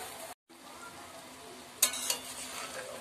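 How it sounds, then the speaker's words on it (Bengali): Marinated potatoes hitting hot spices in a pot, a close steady sizzle with a short dropout, followed by two sharp bursts of frying hiss and faint clinks of a utensil. "মশলাটা থেকে যখন একটা অ্যারোমা বেরোতে শুরু করেছে তখন আমি এর মধ্যে দিয়ে দিচ্ছি ম্যারিনেট করা"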